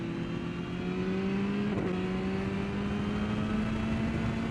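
A Ducati 999R motorcycle engine revving on track at Thunderhill West during rider training, a loud steady drone with a slowly rising pitch and a brief dip midway as throttle changes, with no talking.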